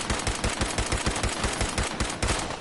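Rapid automatic gunfire from the player's weapon in Fallout 4, a steady stream of close, loud shots in quick rhythm with no pauses and no talking.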